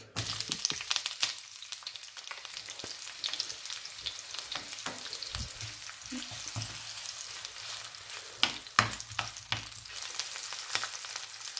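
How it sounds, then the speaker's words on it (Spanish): Onions sauté in oil in a saucepan for penne al pesto, a continuous close sizzle broken by scraping stirs and occasional sharp clacks of a utensil against the pan. "vamos a sofreír primero las cebollas"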